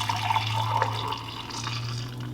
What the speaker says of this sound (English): I'm gonna pour it in real quick.